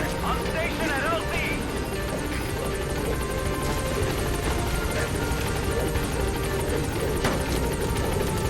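A Pequod helicopter arriving at a landing zone in Metal Gear Solid V: The Phantom Pain, its rotor thrum and engine drone steady and fairly loud under voices throughout.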